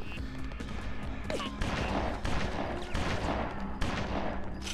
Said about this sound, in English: Mm-mm, 9mm pistols, my favorite.